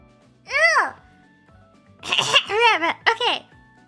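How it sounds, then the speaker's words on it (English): A woman coughs close to the microphone: one voiced cough burst, a pause, then a rapid cluster of harsher, throaty coughs. "I have to cough."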